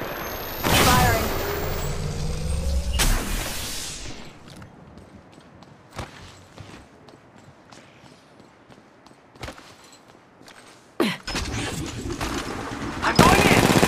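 Apex Legends Mobile gameplay, with a loud close burst of gunfire at the start and again near the end, scattered shots and thuds in between, and voices talking over it.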